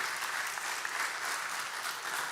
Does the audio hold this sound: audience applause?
yes